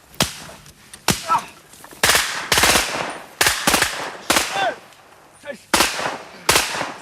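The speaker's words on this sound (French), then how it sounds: "On met deux cartouches de chevrotine dans un fusil de chasse." Sharp gun blasts from a hunting shotgun loaded with buckshot cartridges in a restaurant courtyard, a series of loud cracks in separate bursts with brief gaps of quiet between them.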